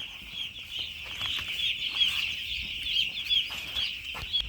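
Chickens on a poultry farm cluck and chatter in a dense, continuous flock noise at fairly close range, with no talking.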